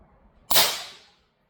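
A Crosman Prospect .22 PCP air rifle fired indoors in a shop: one sharp, loud crack with a quick, bright decay of about half a second, otherwise near silence.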